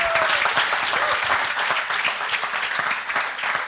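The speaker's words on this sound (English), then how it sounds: "Big applause for him." A studio audience breaks into big, sustained applause, a dense and even roar of clapping hands lasting several seconds with a brief voice at the start.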